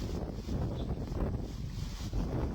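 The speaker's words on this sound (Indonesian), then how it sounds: "Bunyi gemuruh angin" Roaring wind blowing from all directions hard enough to shake trees, a steady, loud, broadband rush with no pauses and no voices.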